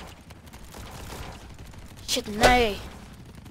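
Gunfire in the video game Ancient Warfare 3: a sharp burst of shots rings out in the middle, over faint background game noise, followed by a brief spoken exclamation.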